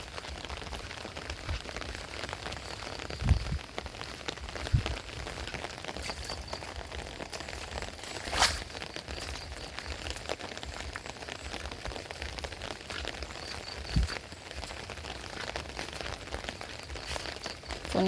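Heavy rain falling through the night in rural Thailand, a dense, continuous outdoor patter with occasional louder drops and knocks, steady throughout with no talking.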